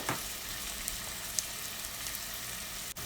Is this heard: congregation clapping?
no